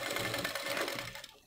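A sewing machine runs fast, stitching the hem of an umbrella dress, with a brief, close, steady mechanical whir that fades slightly toward the end, heard alone without speech.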